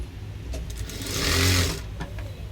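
A sewing machine stitches a blouse sleeve in a close, loud whir that climbs to a peak near the middle and then eases off.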